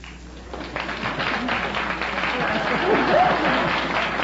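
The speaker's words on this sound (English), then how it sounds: "Keep applauding, kids." A studio audience at a radio comedy quiz show applauds steadily, the clapping swelling a little over several seconds while voices talk over it.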